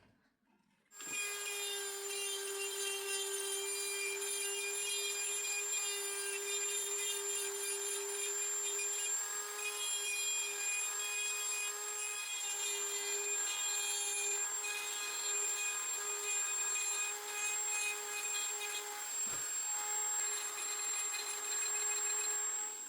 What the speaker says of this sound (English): now with the rotary tool, we're gonna router the inside. I'm going to use this route a bit, and I'm gonna set it to high speed